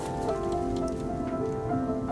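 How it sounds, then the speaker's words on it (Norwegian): Hail falls in a dense, steady patter, close and continuous, with sustained tonal sounds running over it throughout. "Nei, det er hagl!"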